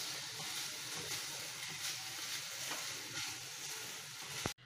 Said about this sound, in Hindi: लो फ्लेम पर हम मावा को भून लेंगे